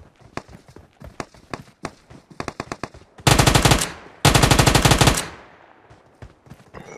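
Gunfire in PUBG: scattered single shots and footsteps, then two long, loud automatic bursts of rapid fire close by, the second fading into a reverberant tail.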